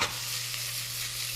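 Chopped portobello mushrooms saute in a pot with a brief, steady hiss of frying, fairly close and continuous, with a low hum underneath.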